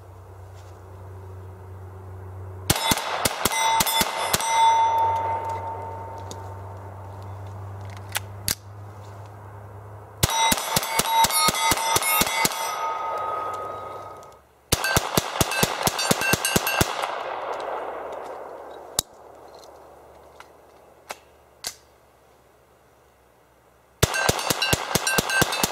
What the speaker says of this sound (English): we're going to go ahead and shoot the remaining, I think, 5 or 6 rounds here